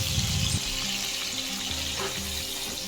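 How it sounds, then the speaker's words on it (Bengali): Constant hissing sizzle of fish frying in oil, heard close, with a low tonal hum running underneath. "ভাবছি মাছটা আগে ভেজে নিই"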